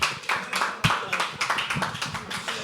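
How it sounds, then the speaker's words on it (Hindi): An indoor audience at a live poetry open mic claps together. The applause is a quick patter of hand claps that swells, then thins out over a few seconds. "तालियां।"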